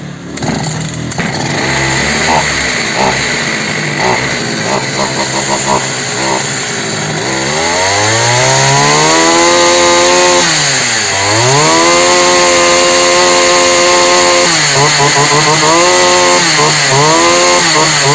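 A Dolmar chainsaw engine brought in because it would not run, now started: first a rough sputtering idle, then repeated throttle revs rising and falling in pitch, loud and close, with the motor buzzing steadily between revs.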